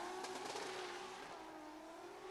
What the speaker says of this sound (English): 2JZ screaming underneath the bonnet of that car